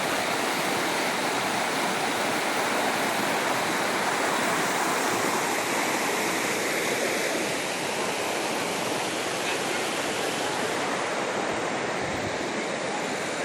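Chiling Falls waterfall near Kuala Kubu Bharu roars in a steady, dense, broadband rush of falling water, loud and continuous throughout with no voices.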